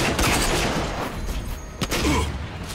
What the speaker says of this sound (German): Ich schieße einfach mal in die Eier.